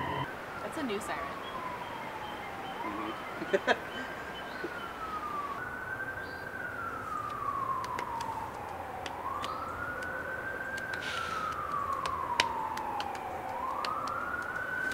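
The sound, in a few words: siren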